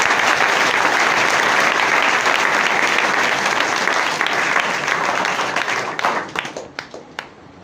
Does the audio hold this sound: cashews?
no